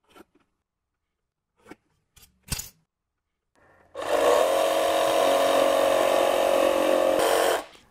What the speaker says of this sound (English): now I'm going to cut a notch that comes right up to meet that hole